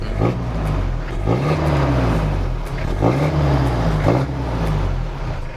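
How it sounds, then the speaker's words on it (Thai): A Mitsubishi Strada 4x4 single-cab pickup truck engine idles loudly up close, then revs up several times in rising surges, each rev dropping back to a rumbling idle. "เดี๋ยวเรามาเร่งฟังเสียงเครื่องยนต์หน่อยครับ"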